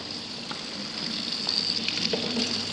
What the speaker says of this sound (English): Waiting for the hot water.